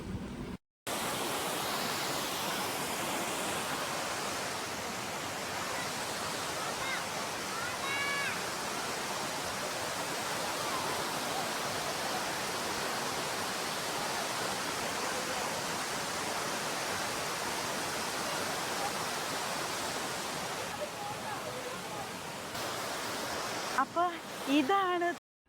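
A low-flowing seven-tier waterfall above Thommankuthu gives a steady, broad rush of water that holds level throughout, with a few brief faint sounds near the end.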